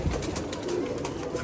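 A female pigeon coos softly in a loft, a low repeated throaty murmur heard up close over faint background ambience.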